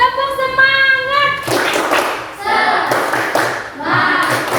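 A primary school class at SDN Kayu Putih 03 does a rhythmic "tepuk semangat" spirit clap. Bursts of close clapping and slapping arrive in patterned groups between stretches of children's voices chanting and singing.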